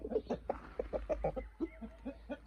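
A flock of two-year-old hens clucks nearby in a steady run of short, repeated calls, with no other sounds.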